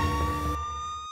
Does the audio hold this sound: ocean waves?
no